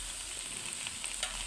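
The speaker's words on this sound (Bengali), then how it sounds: "চিংড়ি মাছ দিয়ে এখন আমি শাক ঢেলে দেবো।" Bottle gourd greens hitting shrimp frying in a pan of spiced oil, giving a steady, close, hissing sizzle throughout.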